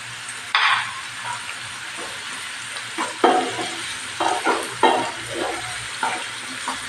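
Keerai thandu, stalks of greens, sautéing in oil in a pan with salt, soft steady sizzle broken by several sharp scraping stirs of a spatula, close and clear without voices.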